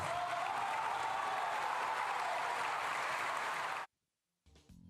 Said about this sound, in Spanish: Vamos a los diputados oficialistas aplaudiendo ese pasaje del discurso